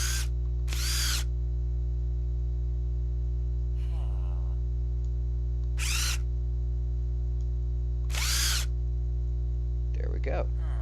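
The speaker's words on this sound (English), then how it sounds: "So that is the screw gun and the hand drill." Short bursts of a screw gun and hand drill from a Minecraft Bibliocraft mod, several whirring pulses about a second each separated by pauses, heard over a constant electrical hum with brief speech between them.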